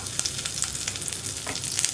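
Dried red chillies and curry leaves frying in hot oil after mustard seeds pop, making a dense, crackling sizzle close by with small spitting pops throughout and no voices.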